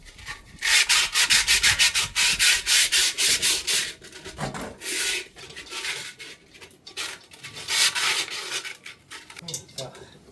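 Sandpaper rubbed by hand inside a cast iron pot, working into crevices: loud, close scratchy strokes in quick repeated bursts, with short pauses between runs of rubbing.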